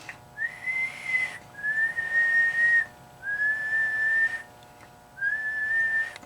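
A person whistles into a microphone to test an amplifier, giving four sustained steady-pitched whistles, each about a second long with short gaps, close and clear over a faint electrical hum.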